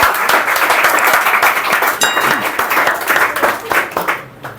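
An audience applauds for a speaker at a public-speaking event in Bihar, steady dense clapping from a crowd that carries on for several seconds before tapering off.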